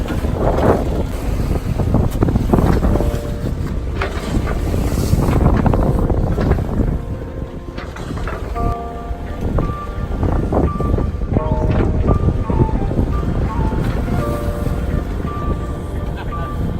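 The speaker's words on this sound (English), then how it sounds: "We encountered a stiff breeze and lumpy seas as we left Roscoff Harbour" Strong wind buffets a sailboat in lumpy seas leaving Roscoff Harbour, gusty roar and rumbling microphone wind noise with sloshing water throughout, loud and close, and voices talking at times beneath it.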